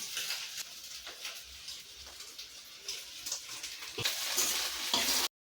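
Soaked puffed rice (mandakki) is stirred into egg in a hot pan. A close, moist sizzle mixes with scraping and stirring noises that grow louder toward the end, then cut off abruptly.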